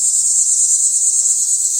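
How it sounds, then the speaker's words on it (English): Cicadas sing in a garden in a steady, loud, unbroken high-pitched drone that holds evenly throughout, with no voices present. "I hear cicadas."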